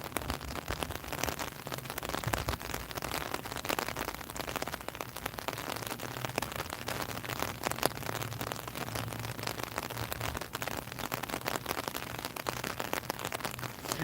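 Heavy rain pours down steadily beside a freight depot and visitor center, a dense, continuous hiss of drops drumming on surfaces with no pauses, loud and close throughout.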